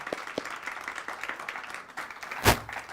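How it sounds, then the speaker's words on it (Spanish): A church congregation gives visiting friends a welcome round of applause, a thin, scattered clapping from a modest group, with one louder thump partway through. "¿Por qué nos damos una bienvenida y un fuerte aplauso a ellos?"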